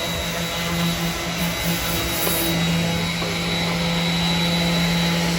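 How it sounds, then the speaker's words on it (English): A carbon fiber lift board being sanded during a repair, heard as a steady loud whirring power-tool drone with a constant hum, continuous and close throughout, with no voices. "Sanding our lift board here, made out of carbon fiber. I'm gonna sand it down."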